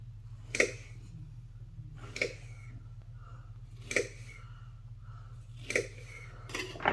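Knife cuts through fresh strawberries for cream cheese bars, giving five or six crisp, evenly spaced slicing clicks over a low steady background hum.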